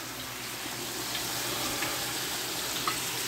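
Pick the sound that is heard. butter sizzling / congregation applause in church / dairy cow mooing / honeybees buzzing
butter sizzling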